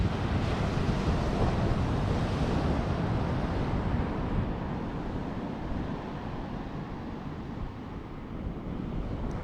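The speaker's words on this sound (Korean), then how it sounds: "이렇게 바닷가 근처에 살면서 바다를 이렇게 이 구경하기는 또 오랜만인 것 같네" Ocean surf rolls onto a Delaware beach near the Indian River bridge, a continuous loud wash of breaking waves mixed with gusty wind buffeting the microphone, steady throughout with no voices.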